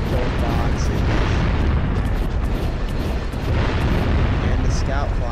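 Dark gold boxes get shot in Jak and Daxter: The Precursor Legacy, dense booming bursts and pops over a constant roar of game noise and music, with no pause in the clamor.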